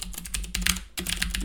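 Rapid, fairly loud clicking of keys on a computer keyboard while writing code, a steady flurry of keystrokes with one short pause midway.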